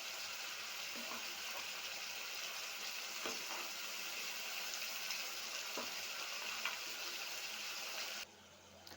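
Spice paste sizzles faintly while it fries in a kadai, a soft, steady crackle with a few light stirring scrapes, before it drops away near the end.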